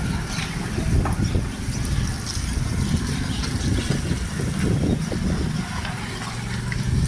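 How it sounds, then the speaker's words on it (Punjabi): A motorcycle engine idles and rumbles low while the bike moves through water on a flooded, broken village link road, with a steady wash of splashing throughout, fairly close. "ਪਾਣੀ ਦੇ ਵਿੱਚੋਂ ਮੋਟਰਸਾਈਕਲ ਲੰਘਦੇ ਹੋਏ"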